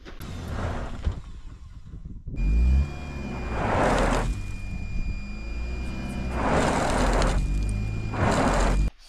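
A car stuck in loose, soft soil on a trip across Hoh Xil revs its engine in repeated surges, the motor rising and falling in several strong pulses with wheel churn underneath, loud and close.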